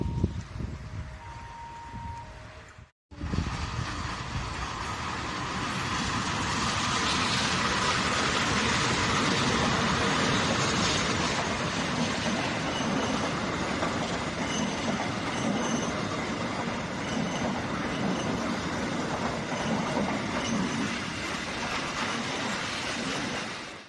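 Double-traction passenger train passing near a station on the southern line toward Bandung: a loud, sustained roar of wheels and cars with squealing and rhythmic clatter, building after a brief quiet start and fading slightly at the end.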